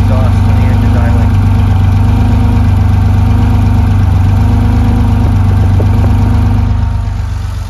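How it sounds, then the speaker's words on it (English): Exhaust of a 1974 Porsche 911 Targa with the engine idling outdoors, a steady loud low burble with even pulsing throughout, fading slightly at the very end. "Here's the sound of the exhaust when the engine's idling."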